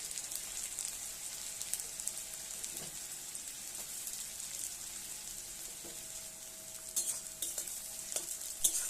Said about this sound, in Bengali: কড়াইয়ের মধ্যে কিছুটা পরিমাণ তেল দিয়ে তার মধ্যে গোটা জিরে ফোড়ন দিয়ে মশলার জন্য যে পেঁয়াজটা কুচি করে রেখেছিলাম সেটা তেলের মধ্যে দিয়ে দিলাম